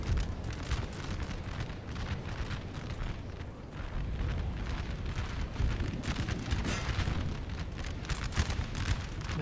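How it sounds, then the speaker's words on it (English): Artillery from 6-pounder cannons in a Napoleonic battle in Napoleon Total War, a dense continuous rumble of distant booms and battle noise, steady and fairly loud, with no talking. "My 6-pounders can engage the enemy with artillery support."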